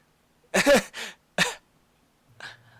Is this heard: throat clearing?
yes